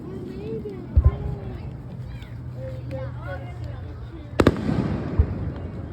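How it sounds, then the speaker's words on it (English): Fireworks go off nearby in a few sharp cracking pops, a pair early and another pair later, while people talk throughout. "Why are the fireworks over here?"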